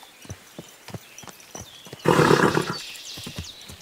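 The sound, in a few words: horse in video game Kingdom Come: Deliverance II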